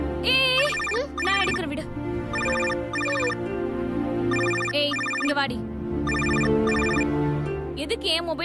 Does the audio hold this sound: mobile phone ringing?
yes